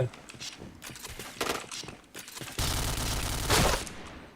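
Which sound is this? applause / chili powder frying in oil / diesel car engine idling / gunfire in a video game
gunfire in a video game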